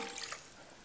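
Water pours steadily into a chicken curry simmering in a Dutch oven, a brief, soft splashing stream with no voices.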